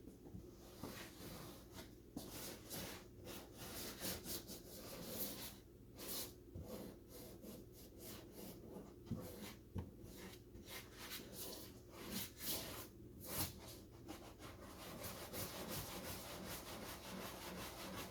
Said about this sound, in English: when you rub it back and forth in that motion, it really blends in to all the pores and the holes